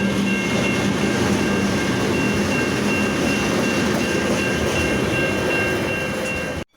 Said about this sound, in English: here comes a freight train going from Burnie to Hobart